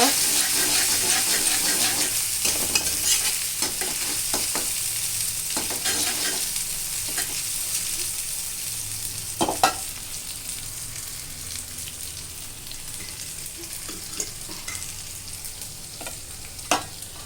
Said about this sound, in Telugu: ఇవన్నీ బాగా కలుపుకొని బాగా వేగాక